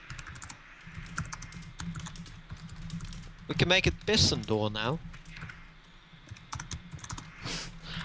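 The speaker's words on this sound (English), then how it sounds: "I'm sorry, guys, that my typing is horrible, but I cannot see my keyboard at the moment." Rapid, uneven clicking of a computer keyboard runs throughout, close and clear, with someone speaking over it partway through.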